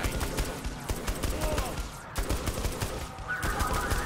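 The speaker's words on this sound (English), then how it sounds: "I can handle those guys shooting me in the back" Enemy gunfire in Saints Row: The Third Remastered, a steady rattle of sharp repeated shots with overlapping game effects, loud and busy throughout.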